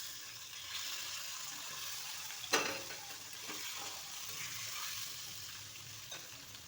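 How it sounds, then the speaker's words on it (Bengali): Potatoes lightly frying in a pan, giving a steady close sizzle with a few stirring scrapes and one sharper clatter. "আলুগুলোকে আমি হালকা ফ্রাই করে নিচ্ছি।"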